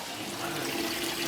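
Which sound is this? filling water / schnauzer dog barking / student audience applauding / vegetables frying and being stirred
filling water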